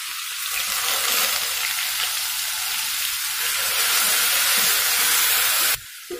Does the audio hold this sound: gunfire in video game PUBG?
no